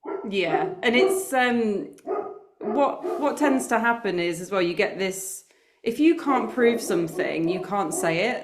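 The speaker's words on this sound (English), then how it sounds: "sorry if you can hear the dog barking" A Labrador barks in short bursts in the background while a person talks continuously over it.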